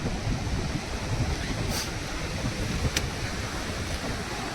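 Sea waves roll in at Kothapalem beach near Chirala, a steady, close surf roar blended with gusty wind buffeting the microphone throughout.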